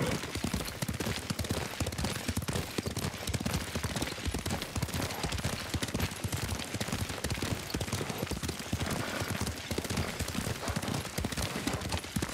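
Rapid, steady hoofbeats of a galloping horse in the video game Ghost of Tsushima, a dense continuous clatter running without pause, close and loud throughout.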